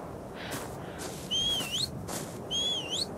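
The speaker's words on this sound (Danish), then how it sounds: "Der er en anden, der fløjter til en dinosaur." Two rising-and-falling whistle calls in ARK Survival Evolved, whistled at a dinosaur, each about half a second long and clear over a steady soft background hum.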